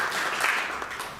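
An unseen audience applauds at a museum event, a brief burst of dense clapping heard from the room, steady and moderately loud before fading slightly, with no one speaking.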